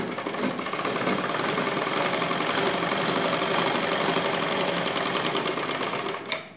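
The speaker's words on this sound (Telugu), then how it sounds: "చివరి వరకు ఇట్లా మడత పెట్టుకుంటూ కుట్టుకోవాలండి." A sewing machine runs steadily for several seconds, stitching a folded blouse seam with a fast, even mechanical whirr and rapid needle ticking, stopping near the end.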